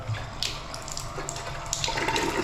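Bathroom faucet in a newly finished master bedroom bathroom runs cold water in a steady, soft hiss with light splashing and small clinks, fairly quiet and close.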